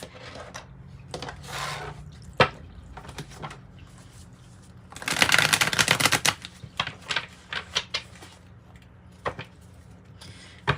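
A Modern Witch tarot card deck is handled up close. Light card flicks and taps lead into a loud riffling shuffle burst, then more scattered soft card snaps, with no speech.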